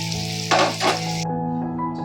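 Oil and a little ghee crackle and sizzle steadily in a hot pan, with a brief louder hiss partway through, then settle back to a quieter fry.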